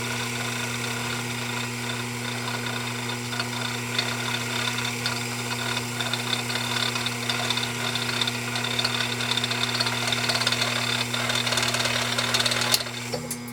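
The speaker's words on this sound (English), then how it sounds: "Notice as well how quiet this machine runs." A Pfaff 229 sewing machine runs steadily while winding a bobbin, giving a smooth, even motor hum with a soft mechanical whir. It rises slightly near the end and plays alone with no talk.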